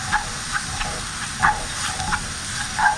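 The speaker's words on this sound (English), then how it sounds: "let that cook for a couple minutes so then the onion is going to be translucent" Finely processor-chopped onion sizzles softly in a pot over heat, a steady frying hiss with light crackles and a few brief stirring clinks, close and continuous with no talk.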